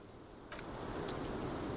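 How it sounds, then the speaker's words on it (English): Steady rain hisses in the game Disco Elysium, a dense, even wash of falling water with a few brief clicks on top, no voices present. "Also, lady, it's raining."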